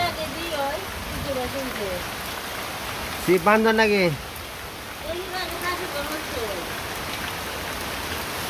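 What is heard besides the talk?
rain falling outdoors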